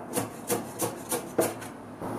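A kitchen knife chops ginger on a wooden board in steady, close, distinct strokes, about eight quick crisp hits spaced evenly with no talking.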